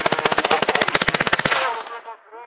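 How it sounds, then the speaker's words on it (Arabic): A loud, rapid burst of automatic gunfire during armed clashes in the Deir ez-Zor countryside, about twenty shots in quick succession, ending in an echoing fade. "تعلو أصوات الاشتباكات وتتصاعد المواجهات"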